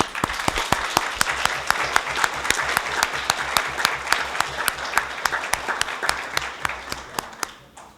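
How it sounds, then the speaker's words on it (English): People at an Alamosa city council meeting give a round of applause, a steady run of sharp, close claps lasting several seconds before tapering off at the end, with no talk over it. "Let's give him one more round of applause"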